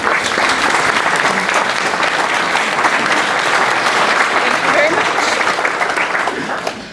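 Sustained audience applause in a hall greeting a speaker before a talk on the Sturgeon Bay Ship Canal, steady dense clapping for several seconds that tapers off at the end.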